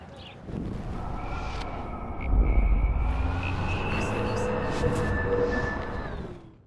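A tiny toy drone, a high-fly model B400 EVO, hovers on a college campus in the game Life is Strange, giving a steady buzzing whine that holds for several seconds over a low ambient rumble, with faint background voices.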